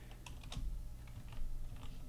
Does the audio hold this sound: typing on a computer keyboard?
yes